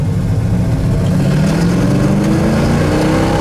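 A 1967 Pontiac GTO's V8 with an automatic transmission accelerates from inside the car, a loud, close, continuous engine roar climbing steadily in pitch.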